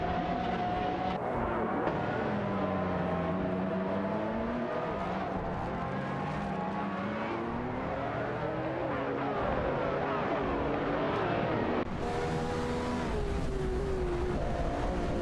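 In a racing video game, a McLaren F1 GT and an Aston Martin 177 duel closely, engines roaring steadily with sweeping pitch changes as they accelerate, shift and pass, loud throughout without speech.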